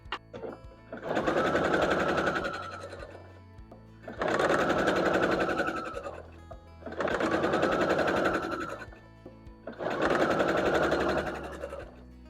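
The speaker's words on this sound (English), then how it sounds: "we're going to take these two pieces and stitch them on either side like this" A sewing machine stitches acorn stem pieces onto a quilt block in four steady bursts of rapid mechanical whirring, each lasting a few seconds with short pauses between, close and clear with no talking.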